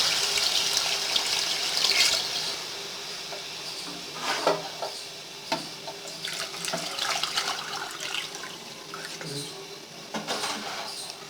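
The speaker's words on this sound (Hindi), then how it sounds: "अब पानी डालेंगे" Water runs and splashes into a pot of rice for mutton biryani for several seconds, with a few clinks and knocks of utensils and intermittent talking over it.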